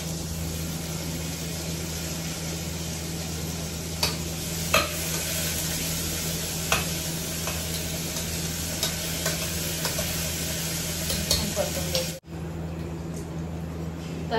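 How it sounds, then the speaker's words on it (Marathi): Large slices of onion and tomato fry with golden garlic in a pan, a constant close sizzle with occasional stirring taps, cutting off abruptly near the end before resuming. "त्यात आम्ही ओनियन घालते, मोठे मोठे स्लाइस केलेले आणि टोमॅटो पण घालून घेते."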